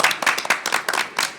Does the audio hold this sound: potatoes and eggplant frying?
no